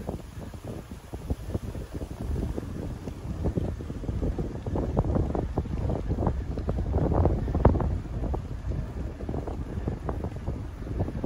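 Stiff headwind buffets the microphone while riding a bike outdoors, a loud, continuous low rumbling roar with gusty surges throughout.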